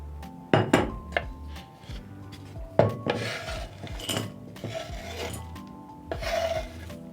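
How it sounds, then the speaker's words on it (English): Chopped chocolate being scraped and tipped into a bowl, a close series of knife scrapes on a board, clinks against the dish and soft rubbing sounds in uneven bursts, no talk. "Once done, I'm going to be transferring my chocolate to a bowl."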